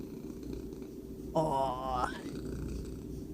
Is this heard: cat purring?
yes